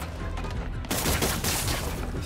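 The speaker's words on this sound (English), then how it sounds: "Ranged enemies incoming. Watch out for gunfire." Enemies in the video game Marvel's Spider-Man: Miles Morales open fire in a loud, dense barrage of rapid gunshots that keeps going through the whole moment and swells after a brief dip.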